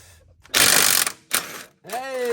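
A ratchet on a long extension works at soaked exhaust manifold bolts on a Nissan 350Z: two loud, close bursts of ratcheting clatter, then a brief voice-like tone at the end.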